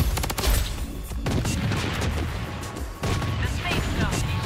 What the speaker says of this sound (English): Missile bombardment on its way.